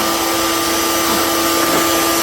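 A wood router chamfering the sharp edges of wooden crosses, a loud continuous high-pitched whine with a steady tone and no breaks, close to the microphone.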